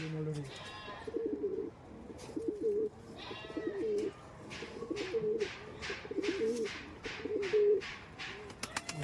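A female teddy pigeon coos close up in a string of about six soft, throaty calls, with faint clicks and rustling between them.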